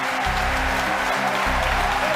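Onlookers at a SpaceX Falcon Heavy launch keep up steady cheering and clapping after booster separation, a dense unbroken roar with periodic low rumbles beneath.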